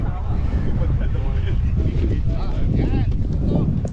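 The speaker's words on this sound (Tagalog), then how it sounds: "medyo mahangin." Steady wind buffets the microphone with a constant low rumble at an outdoor site near a solar farm, while a person talks faintly underneath.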